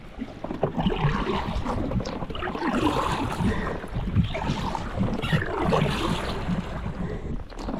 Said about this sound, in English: the wind shifted and picked up